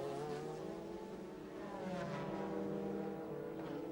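A race car at Laguna Seca in a 2003 American Le Mans Series round, driven by Marco Werner, its engine a loud, steady high-pitched roar that holds for the whole stretch with slight rises in pitch.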